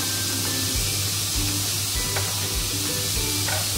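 Papaya curry with turmeric sautés in a pan, a steady close sizzle under a low hum, with a few soft scraping stirs and clicks spread through.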